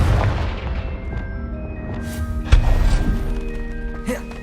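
The Confringo fire spell in the video game Hogwarts Legacy bursts with booming impacts and crackling blasts, loud and layered over game effects, with a sharp hit midway and a voice heard at the start.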